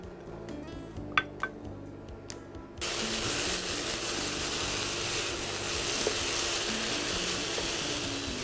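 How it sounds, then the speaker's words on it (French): Onions and peppers drop into a hot pan with chorizo and no added oil, and a steady bright sizzle takes over after a few quiet clinks, holding level and close. "on va faire cuire nos oignons, nos poivrons avec le chorizo"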